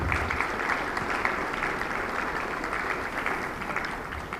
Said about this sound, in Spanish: Damos un aplauso al hermano Onel Mazardule.